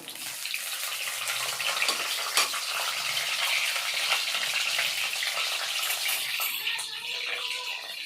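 Garlic frying in hot oil with cumin makes a continuous dense crackling sizzle, close and fairly loud, with occasional sharper pops and no voices over it.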